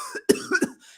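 A man imitates a cough with his voice, a few short throaty bursts in quick succession, close and fairly loud.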